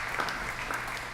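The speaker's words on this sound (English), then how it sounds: "We could hold our applause until the end" Audience clapping at an alumni banquet, a brief burst of scattered applause from a room of guests, moderately loud and continuous without voices.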